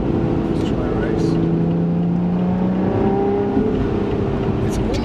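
A Lotus Evora Sport 410 engine revs hard in race mode, a loud, close, droning roar whose pitch climbs and shifts as the revs build, continuing without pause.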